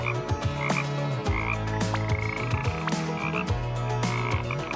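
A frog croaks repeatedly at close range, loud rhythmic calls with short pauses, alone without talk.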